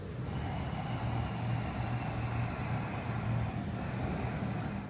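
Steady, breathy rushing like ocean surf from Ujjayi yoga breathing, continuous and close, with a low hum underneath; no talking.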